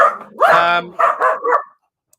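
Dogs bark loudly and close by, a quick series of four or five sharp, yelping barks packed into under two seconds, then quiet.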